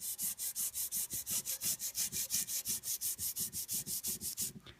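Sandpaper rubbed by hand along a steel knife blade to remove yellow oxide, with no power tools; steady back-and-forth strokes, about five per second, close and moderately loud, with no talking.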